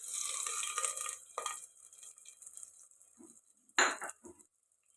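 Cooked manathakkali greens being stirred and mashed in a pot, a soft wet scraping at first, then a few faint knocks and one louder scrape near the end, heard close with no talk.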